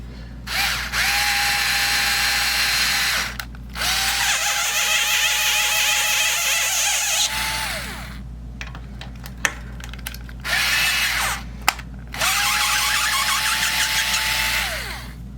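A power drill whirs in several loud bursts of a few seconds each, widening a screw hole in a bass guitar headstock for a string tree, with brief pauses and clicks between runs.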